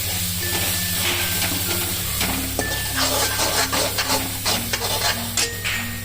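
Vada manchurian gravy being stirred in a pan, with close, steady scraping and a soft sizzle running throughout under a sustained tonal background.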